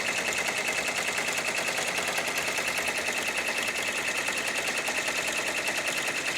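An embroidery machine stitches a design onto an upside-down cap, giving a steady, fast mechanical chatter with an even rapid rhythm throughout, close and continuous with no voices.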